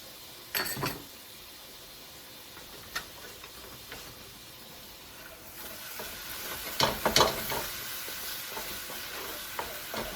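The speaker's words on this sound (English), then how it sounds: "I'm going to add in some garlic, about 3 cloves." Three garlic cloves sizzling in butter in a pan over low heat, a steady soft frying hiss with occasional clicks of stirring, close and without talk.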